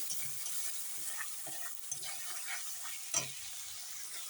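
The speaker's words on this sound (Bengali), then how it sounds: "মশলা দেখো সুন্দর করে কষিয়ে নেওয়া হচ্ছে" Cumin and coriander powder stirred and frying in a pan for a paneer curry, a soft continuous sizzle with scattered scraping stirs and one sharper clack near the end, heard alone without talk.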